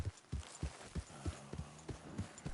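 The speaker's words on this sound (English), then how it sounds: "Even Arthur just humming on his horse" Horse hooves clip-clop at a steady walking rhythm in the open world of the video game Red Dead Redemption 2, about eight even thuds, close and moderately quiet, with a faint hum of a voice in the background.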